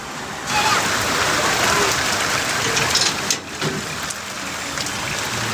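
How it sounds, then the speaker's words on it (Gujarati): Steady rain pours down, a dense, even hiss with soft patters, close and continuous throughout. "ચાલુ થઈ ગયો વરસાદ વરસાદ ચાલુ થઈ ગયો છે"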